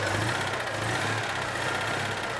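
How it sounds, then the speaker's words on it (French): A Citroën 2CV's small two-cylinder engine running steadily close by, a throbbing, slightly rattly idle with a regular low pulse. "la mécanique qui fait qu'il y a ce son bien particulier à la 2 chevaux"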